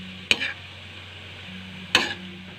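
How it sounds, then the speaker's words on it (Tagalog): Bean sprouts sautéing with garlic and onion for lumpiang togue: two sharp spatula scrapes against the pan stand out over a low, steady sizzle. "Ginisa ko lang po siya dito sa bawang at sibuyas."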